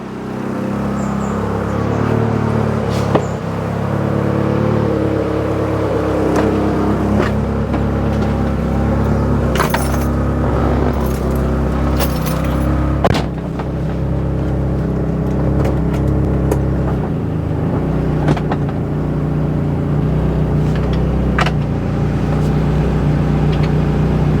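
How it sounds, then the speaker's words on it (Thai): An old 1990s family car that sat unused for a long time runs its engine with a steady low rumble, close and continuous with no clear revving, as it creeps forward a little. "เดี๋ยวเดี๋ยวรถออกนิดนึง"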